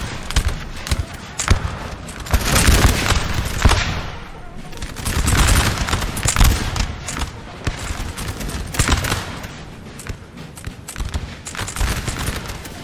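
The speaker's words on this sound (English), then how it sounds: "you can hear the regular volleys now" Musket volleys crackle in Napoleon Total War, dense rolling fusillades of massed gunfire swelling and fading across a battlefield, with someone talking over them.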